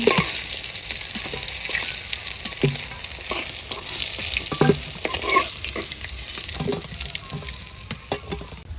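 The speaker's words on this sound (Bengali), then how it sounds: "মাছ ভাজা হয়ে গেছে, উঠেই নেই, এই যে একেবারে এপাশ ওপাশ লাল লাল করে ভাজছি।" Fish frying in a pan in a village kitchen, a close, continuous sizzle broken by irregular clinks and scraping as the pieces are stirred and turned.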